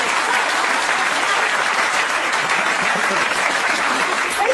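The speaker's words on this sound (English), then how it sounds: "take the applause from the end." An audience gives loud, steady applause, an even, unbroken mass of clapping from many hands that holds at the same level from start to finish.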